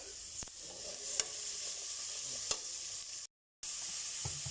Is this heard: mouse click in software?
no